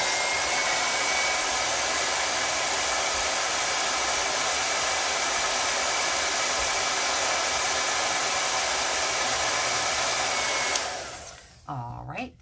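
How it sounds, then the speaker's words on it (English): A blow dryer runs steadily and loudly for about eleven seconds, drying chalk paint on an Easter bunny bucket craft, then cuts off, leaving a few soft handling sounds. "I'm gonna use my blow dryer to dry that a little bit."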